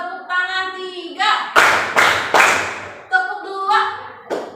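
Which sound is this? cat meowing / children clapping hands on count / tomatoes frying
children clapping hands on count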